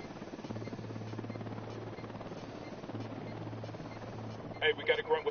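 In a video game, a helicopter drones with a low, steady rotor hum through most of the stretch, beneath radio-style talk and some game noise toward the end.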